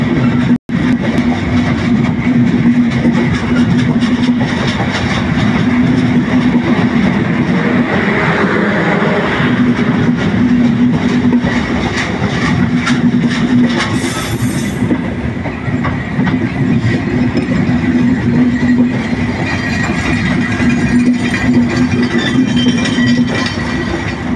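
A very long passenger train rolls slowly into Tangail railway station, its wagons rumbling loud and close with a steady drone and rhythmic clickety-clack of wheels on the rails that goes on without a break.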